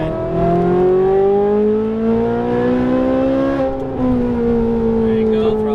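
Ferrari 458 Italia V8 screaming at full throttle on a racetrack, a loud steady high-pitched wail that climbs through the revs, dips briefly near a shift, then pulls on again.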